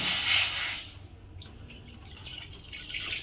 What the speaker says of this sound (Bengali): এবারে আমি কড়ার মধ্যে দিয়ে দেব জল